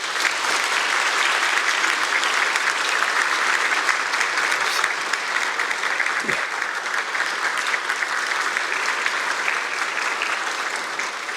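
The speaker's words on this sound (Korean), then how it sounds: "여러분 따뜻하게 박수로 격려해 주시겠습니까?" Sustained applause from a church congregation during a Sunday worship service, steady and full throughout, with no voices standing out above the clapping.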